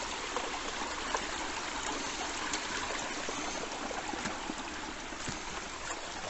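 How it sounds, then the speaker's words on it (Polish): A small stream flows beneath a footbridge in Bydgoszcz, a steady close rush and trickle of water with faint splashes and no voices. "No, jestem na strumyku, na kładce."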